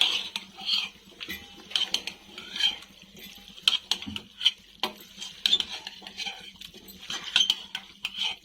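A spoon scrapes and clinks against a pan as keema curry seasoned with garam masala is stirred, giving irregular metallic knocks and rattles over a faint, steady sizzle.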